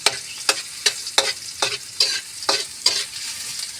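Fried rice sizzles steadily in a hot pan while being stir-fried for breakfast, with a string of bright scraping stir strokes roughly every half second over the constant fry hiss, close and alone.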